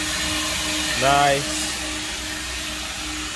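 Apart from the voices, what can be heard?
vacuum cleaner running in background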